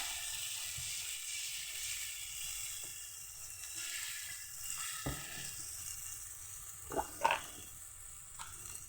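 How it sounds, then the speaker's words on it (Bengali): Spiced paste frying in a pan for prawn curry as water goes in, a steady close sizzle with a few sharp clinks and scrapes of a utensil near the end, no talking. "এবার জল দিয়ে দেবো।"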